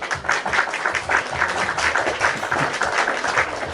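An audience applauds a guest on a live stream with steady, dense clapping that holds at an even level throughout, with no one talking over it.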